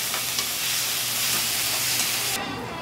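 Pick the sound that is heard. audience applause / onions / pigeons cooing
onions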